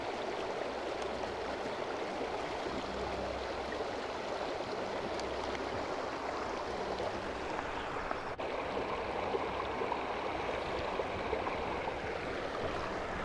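Steady rushing and gurgling of flowing stream water at a camping spot, continuous and fairly close, with no voices, as a water bottle fills.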